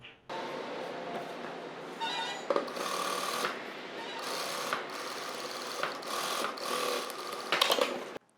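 Sewing machine stitching fabric for a simple model blouse, a steady close whirring run that stops and restarts in several bursts, with no talking.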